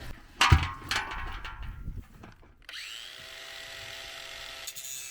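A grinder with a cutoff wheel cuts into a recycled garden pot, opening with a few sharp knocks and rough scraping, then a steady high whine from the spinning wheel close by.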